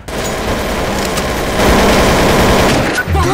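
Dense, loud gunfire in Counter-Strike: Source, rapid overlapping shots blending into a continuous barrage with booming impacts, close and sustained with a brief dip near the end.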